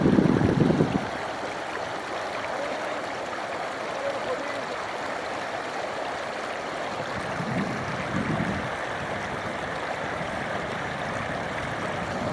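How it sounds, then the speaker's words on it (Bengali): Heavy rain falls around a boat on the water at Sada Pathor, Bholaganj, Sylhet, making a steady, dense rushing hiss that continues throughout, with brief louder bursts near the start and middle. "বর্ষা হচ্ছে খুবই"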